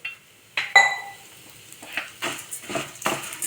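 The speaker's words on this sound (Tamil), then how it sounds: "இப்போது சேமியாவை இதிலே ஒரு வறுத்துடலாம்" Vermicelli is roasted in a pan, heard as irregular bursts of dry stirring and scraping with a few metallic clinks and a soft sizzle, close and moderately loud.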